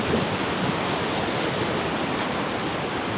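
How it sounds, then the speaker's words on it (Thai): Sea waves wash onto the beach at Hua Hin on a morning visit, a steady, unbroken roar of surf and hiss that fills the space evenly with no voices. "บรรยากาศทะเลหัวหิน"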